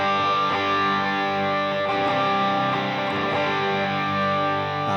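Electric guitar on a Valeton GP-50 with a boost adding extra gain plays loud, thick, sustained distorted chords that ring steadily throughout.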